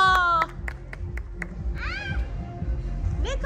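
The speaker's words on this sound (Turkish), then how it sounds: "Babası bir alkış yapar mısın?" A father claps a few times in sharp, separate strokes, cheering on his young daughter at a home obstacle-course game; a high, meow-like voice cries out afterwards.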